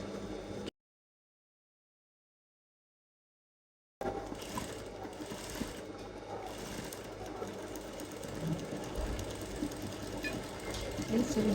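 Sewing machine back stitching Aso Oke fabric, a steady close mechanical whirring with rapid needle clatter that stops briefly, then resumes and runs continuously, with faint background speech.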